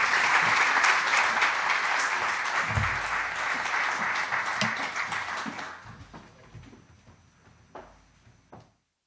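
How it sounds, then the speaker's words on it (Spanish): Audience applause at a Banco Santander markets strategy event in the Bolsa de Bilbao, dense clapping that holds for several seconds, then tapers off into a few scattered claps and small room knocks before silence. "les voy a pedir que el aplauso sea por lo menos como el de César y Gabriela"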